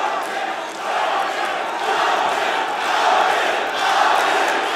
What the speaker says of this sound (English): The crowd cheering Albion.